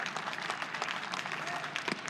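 A college baseball crowd at West Virginia vs Oklahoma claps and cheers in a brief, steady burst of distant applause with a murmur of voices underneath.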